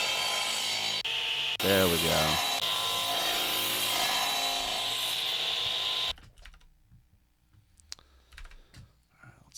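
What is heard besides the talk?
electric saw or buzz saw sound effect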